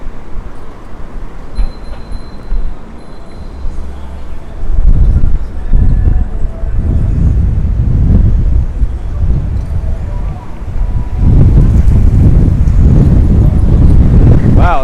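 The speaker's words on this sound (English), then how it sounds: "Wow, it's getting windy." Gusty wind buffets the microphone outdoors on a Midtown Manhattan street, low rumbling surges swelling loud in waves, with heavy bursts near the middle and end, and people talking faintly beneath.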